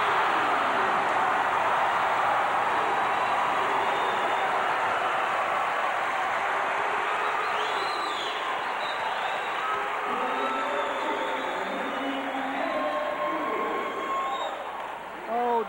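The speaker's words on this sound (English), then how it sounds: "she cranked up the crowd right along with it as we saw the crescendo of the word T move around the gym" A packed gym crowd at a 1989 women's college volleyball match between Hawaii and Pacific roars in a sustained wash of cheering and chanting, with a commentator talking over it.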